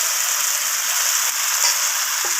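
Marinated chicken pieces hit a pan of fried onion and tomato, giving a continuous bright hiss of sizzling that stays steady and close, with no voices.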